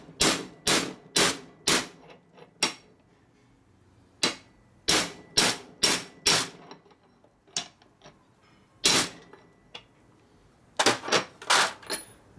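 Sharp metallic hammer blows driving a part down inside a Borg Warner T5 five-speed transmission, struck in quick clusters of three to five hits with short pauses between, loud and close, no talk.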